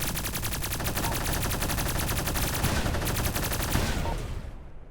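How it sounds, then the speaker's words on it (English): Rapid automatic gunfire from the video game Iron Inc, a continuous, evenly spaced machine-gun stream of shots lasting about four seconds, loud and near, then tailing off at the end without talk. "So, now we can shoot the enemies."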